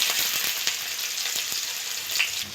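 Onions hit hot oil already frying whole cumin seeds, giving a loud, even sizzle with a few stirring clicks and scrapes close by.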